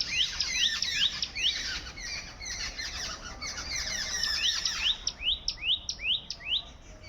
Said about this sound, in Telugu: పక్షులు ఉన్నాయి, ఒక 20-30 పక్షులు అయితే ఉన్నాయి, బాగా గోల్ చేస్తున్నాయి